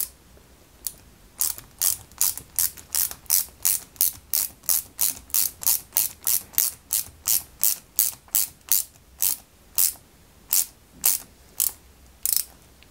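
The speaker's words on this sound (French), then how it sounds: "à l'extérieur, on y met une petite vis BM qui va le maintenir en place" Small screw being driven into a 1/8 scale Ferrari 330 P4 model kit, a rapid series of crisp ratcheting clicks from a screwdriver in steady bursts, close and clear with no voices.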